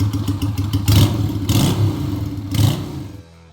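A Yamaha V-Star 250 motorcycle engine revs in repeated rising surges, loud and close, with a steady low rumble between the bursts before it drops away at the end.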